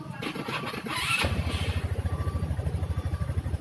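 A Rusi RFi 175 motorcycle engine cranks with a brief clattering whir, catches, and settles into a loud, close, rhythmic idle thump that continues to the end.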